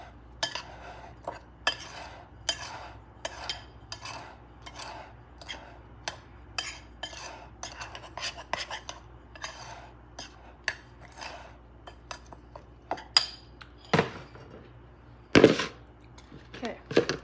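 Chocolate muffin dry ingredients, including baking powder, being mixed in a bowl: a regular series of sharp utensil taps and clinks against the bowl, with a couple of louder knocks near the end.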